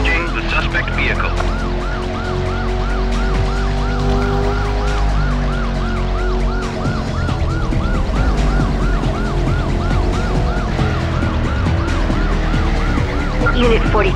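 A police car siren wails loudly and continuously in a pursuit of a purple Jaguar in Need for Speed: High Stakes on PS1, cycling rapidly over steady engine roar and road noise, with brief radio-style talk at the start.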